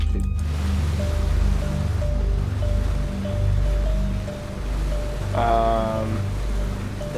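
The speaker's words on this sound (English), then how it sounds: "There seems to be some water in our boat as well." Water sloshing around inside a boat in the video game PUBG, a steady washing slosh under a low engine hum, with a brief tonal game sound near the end and no talk.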